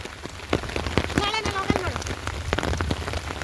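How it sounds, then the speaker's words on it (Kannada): Heavy rain pours steadily on a street as a parent walks children home from tuition, a dense close hiss with scattered louder drips throughout; faint voices and a brief tonal sound surface midway. "ಮತ್ತೆ ಜೋರು ಮಳೆ."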